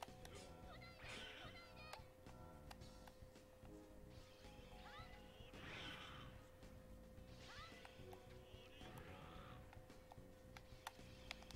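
Faint, muffled cat meows ring out from inside Al's armored body in Fullmetal Alchemist 3, recurring several times over steady game background noise and music.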